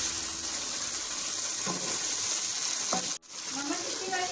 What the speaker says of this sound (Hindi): इसमें ऐड करना है और इसको अच्छे से भूनेंगे तेज आंच पर